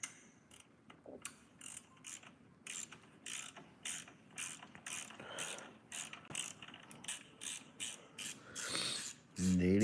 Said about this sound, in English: now we're gonna remove the power steering rack hardware